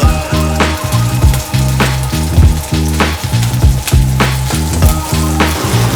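Meat pieces cut with small slits sear loudly in a hot pan, a dense, steady sizzle with sharp crackles and pops running throughout.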